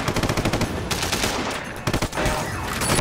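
Rapid automatic gunfire from a shooter in the video game Sleeping Dogs rattles loudly and almost continuously, with brief pauses between long bursts.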